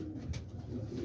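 Quetta pigeons kept in Pakistan coo softly in a brief, low murmuring call, faint and close, with no voices present.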